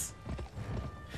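Rapid clip-clop of video game horse hooves galloping close by, a quick uneven drumming with a faint whinny-like tone near the start.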